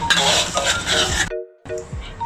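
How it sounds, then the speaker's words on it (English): Bean sprouts and kucai leaves being stir-fried in a pan for char kuew tiao: a close, scraping spatula and sizzling clatter, briefly cut off by a short gap before the stirring resumes. "don't forget to put some of a bean sprouts and some of kucai leaf into the pan and you continue stir fry"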